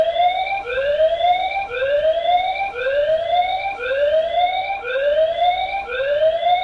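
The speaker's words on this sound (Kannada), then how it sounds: "ಆ ಸೈರನ್ ಯಾವ ಥರ ಬರುತ್ತೆ ಅನ್ನೋದನ್ನು ಕೂಡ ನೀವು ನೋಡ್ಕೋಬಹುದು." The built-in siren alarm of a Hixecure 4G WiFi security camera blares loud, rising electronic whoops that repeat in a quick, even cycle, close and alone.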